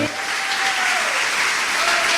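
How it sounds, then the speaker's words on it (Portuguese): A church congregation applauds its mothers, with steady, dense clapping from a crowd that carries on evenly across the short span, while a single voice speaks faintly underneath. "aplaudir as nossas mães"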